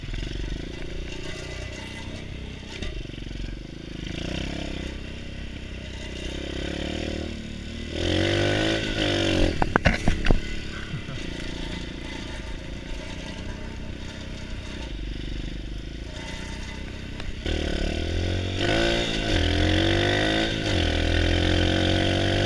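A pit bike engine runs continuously, a buzzing motorcycle drone with a few throttle blips and revs partway through, close and fairly loud throughout.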